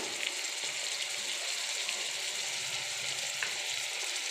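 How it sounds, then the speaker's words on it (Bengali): Brinjal slices fry in hot oil in a pan, making a steady, close, hissing sizzle with a few faint crackles and no voices. "দেখো বেগুন ফ্রাই হচ্ছে"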